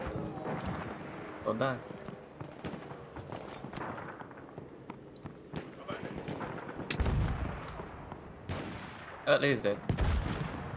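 Sniper gunfire in the Battlefield video game, sharp cracks and booming reports scattered across the moment alongside distant battle noise, with someone talking over the shots.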